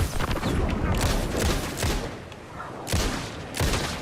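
Gunshots fired in the Alan Wake II video game, several loud, heavy blasts at irregular intervals with booming tails, close and forceful.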